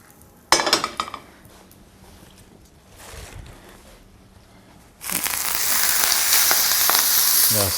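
A small pinch of asafoetida hits hot oil in a pan, giving a sudden loud sizzle that fills the second half, after a few earlier clinks of cookware and quieter stretches.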